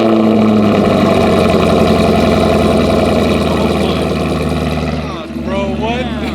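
A Camaro SS fitted with an AWE Touring non-resonated catback exhaust runs close up, a loud, deep, continuous rumble with rhythmic pulsing that eases slightly near the end while voices speak over it.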